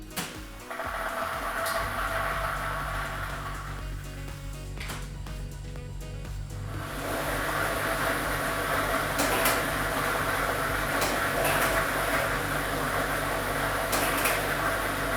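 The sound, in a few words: lottery drawing machine mixing balls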